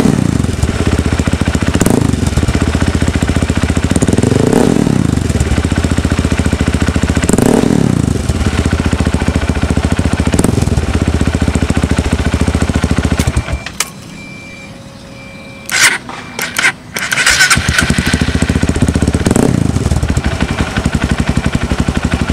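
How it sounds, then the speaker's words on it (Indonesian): A motorcycle engine fitted with a remotely tuned Juken 5 ECU starts and revs up and down repeatedly, loud and close, then sputters and nearly dies from excess fuel on deceleration before catching and revving again. "Saat kita starter, kemudian kita gas, turun, kita gas, turun, dia akan mati gasannya."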